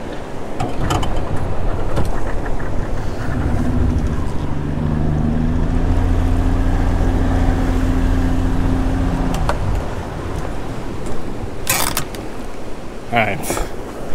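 A fishing boat's outboard motor runs near rocky water, a steady engine drone that holds for several seconds and then cuts off, followed by splashing and a few sharp mechanical clicks.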